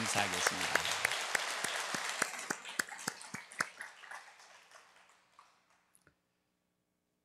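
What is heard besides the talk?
church congregation applauding in welcome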